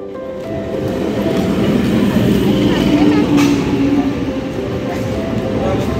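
Inside a fairly empty morning Indian suburban local train, a steady rumbling roll of the carriage runs close and loud throughout, with people's voices talking over it.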